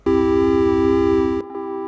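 A bright, harmonically rich triangle-wave synth pad sustains one note, then briefly breaks off and resumes slightly quieter with a sharper, unfiltered edge after its filter is removed.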